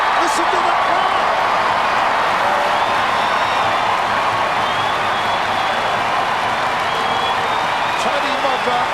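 A large Australian football stadium crowd roars and cheers continuously after a goal, a dense wall of sound with a voice talking over it.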